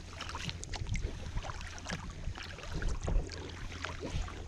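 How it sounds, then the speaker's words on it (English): A kayak paddled back toward shore along the coast near Arisaig's skerries and the Rhu Peninsula, with steady water splashes and paddle strokes against a constant low rumble of wind and water, no voices. "I'm going to paddle back to shore."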